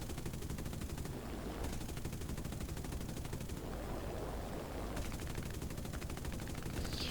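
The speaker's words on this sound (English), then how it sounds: "Really wish these 50 cals did more damage" Rapid, continuous .50 caliber machine gun fire from a B-29 bomber in a video game rattles on without pause, a dense steady barrage heard alone over engine drone.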